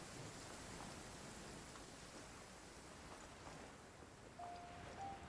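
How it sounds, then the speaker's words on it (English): A steady rain downpour in the video game Genshin Impact, an even wash of falling water that stays constant throughout at moderate level, with a faint tone rising near the end. "Taking a stroll in the middle of a downpour certainly rouses the spirit."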